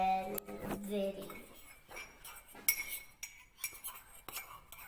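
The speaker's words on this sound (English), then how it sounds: "First mix the dry ingredients" A spoon clinks and scrapes against a mug while mixing the dry ingredients for a one-minute chocolate mug cake, with light rhythmic taps and scraping, close and fairly quiet.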